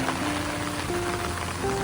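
Steady rain patters on a surface in a dense, continuous hiss, with a faint tonal hum running underneath.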